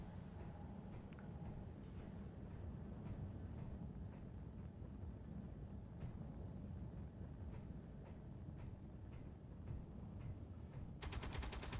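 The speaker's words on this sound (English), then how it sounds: "guns out in there, and they're shooting at zombies" Rapid gunfire in the game Space Engineers as turrets shoot at zombies: a steady, dense stream of repeated shots with faint clicks, fairly quiet and continuous, with a sharp burst of rapid ticking at the very end.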